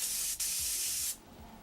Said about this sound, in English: do a nice wide spray once again right through there